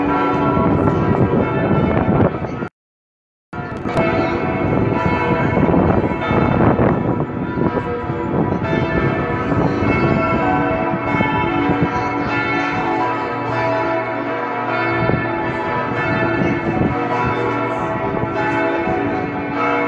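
Church bells pealing on the cathedral square in Augsburg, a dense, continuous ringing of several bells with overlapping strikes, loud and sustained, briefly cut by a short gap.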